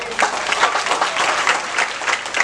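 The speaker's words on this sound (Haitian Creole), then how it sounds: "Applaudissez s'il vous plaît." An audience at an outdoor children's festival and gift distribution at a town hall claps steadily, a dense, continuous patter of many hands fairly close by.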